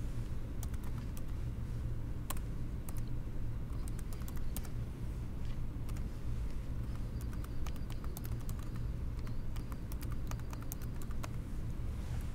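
Rapid keystrokes and clicks from typing a username and password on an OKI smart multifunction printer's panel, steady and close over a constant low machine hum, with no talking.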